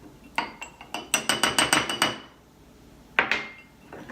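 A utensil stirring peanut butter mug cookie batter with flour in a mug, a quick run of close clinking taps against the mug's sides, then a pause and a couple more scrapes and clinks.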